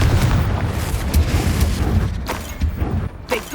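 Confringo fire spell from Hogwarts Legacy bursting in a heavy booming blast, low rumbling explosions with crackling hits that fade and flare again across a few seconds.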